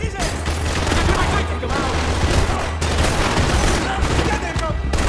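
Continuous loud gunfire from the video game Max Payne 3 fills the scene, dense overlapping shots and bursts in a firefight with shouted voices mixed in.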